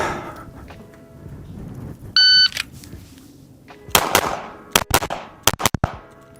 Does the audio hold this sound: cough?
no